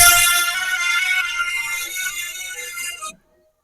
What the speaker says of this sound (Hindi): केकर फोन आवत है